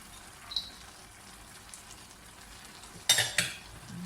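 Long beans stir-fried in a hot pan give a faint, steady sizzle, broken near the end by two sharp, loud clatters of a utensil tossing them against the pan.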